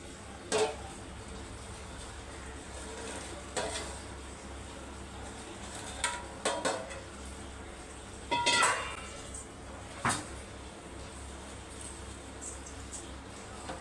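Rice stirred in a cooking pot for Aadi month koozh, with a few scattered metallic clinks and scrapes of a spoon against the pot over a low steady hiss, ending with a lid knock.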